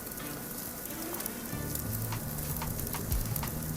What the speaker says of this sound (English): Got that butter. I'm gonna throw some on here.